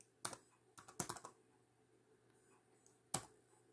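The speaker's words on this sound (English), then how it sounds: "it's a bit difficult to type with one hand" Keys clatter on a ThinkPad T61 laptop keyboard in short bursts of quick clicks, a few presses at a time separated by quiet pauses, close and fairly soft.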